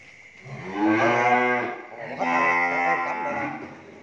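Cattle on a cattle farm moo twice in long, loud, close-up calls, one straight after the other, with no talking.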